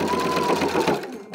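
An apron seam being back-stitched on a sewing machine, which runs at a steady close hum for about a second before stopping abruptly, with no voices.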